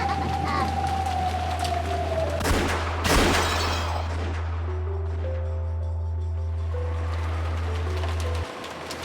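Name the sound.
gunfire sound effect in video game Umineko When They Cry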